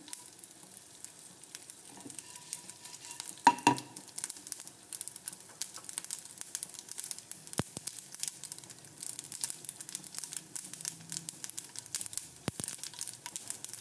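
Mustard seeds and dried red chillies frying in hot oil for a Kerala chicken thoran, a steady crackling sizzle with scattered pops and sharp spatters throughout, close and moderately loud.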